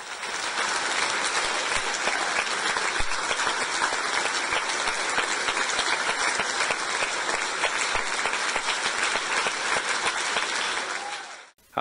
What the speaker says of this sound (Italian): Applausi e standing ovation